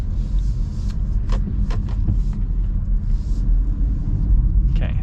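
A 2023 Chevy Trailblazer Activ pulls away from a roundabout, its engine a low rumble from inside the cabin that swells slightly toward the end, with brief faint knocks over it.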